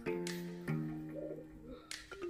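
Racing pigeons of imported bloodlines coo inside a loft, with soft, low, repeated calls that are close but quiet and carry no talk.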